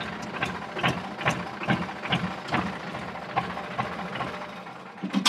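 Sonalika DI 35 tractor with a hydraulic lift that rises in jerks, heard as a steady rhythmic series of mechanical knocks over a running engine, close and fairly loud.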